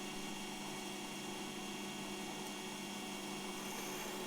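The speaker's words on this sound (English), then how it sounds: "Again, I drill from both sides so that they're definitely central." A pillar drill drilling screw holes from both sides of a continuo organ part gives a constant, low-level motor drone and whine, unbroken and without speech.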